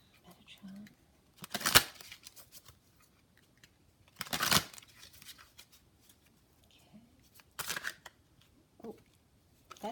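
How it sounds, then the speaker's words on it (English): Three bursts of tarot card shuffling, crisp riffling rattles spaced a couple of seconds apart, with soft handling noises in between. "I'm going to shuffle again"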